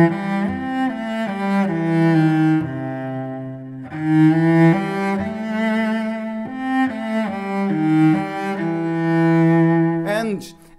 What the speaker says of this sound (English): If I play in a jazz scale, it sounds like this.